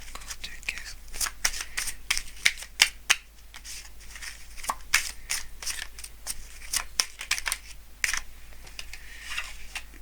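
Tarot cards shuffled and drawn close by, crisp papery flicks and snaps arriving in irregular bursts over a quiet room hum, with soft speech between them.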